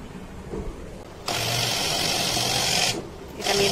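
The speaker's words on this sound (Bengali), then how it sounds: "এখন আমি এটা হচ্ছে ব্লেন্ড করব।" Kitchen blender whirring through mixed ingredients, a loud steady motor roar that starts abruptly, runs for under two seconds, briefly cuts out, then resumes.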